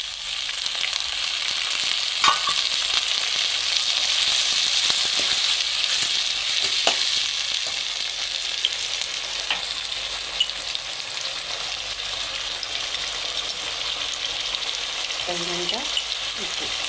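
Onions and tomatoes sizzle in hot oil in a pan, a steady close hiss that runs the whole way through, broken now and then by soft scrapes and knocks of a spoon stirring, with no voices over it.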